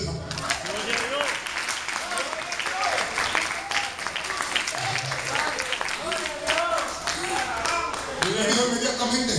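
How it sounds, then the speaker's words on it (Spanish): Applause rises from a church congregation during an evangelical service, dense clapping filling the room while a preacher's voice and cheers carry over it. "Dame un aplauso al Señor."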